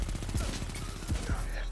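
Rapid submachine gun fire in Destiny 2 during a player-versus-player match, several quick bursts of close, loud shots that overlap with game effects and run nearly the whole time.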